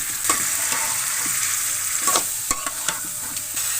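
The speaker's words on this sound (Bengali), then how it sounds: "মাছগুলো এখন একটু হালকা কষিয়ে নিব" Pangas fish pieces sautéing in spice paste in a pan, a steady close sizzle and fry broken by scraping stirring strokes and occasional clinks, with no talk.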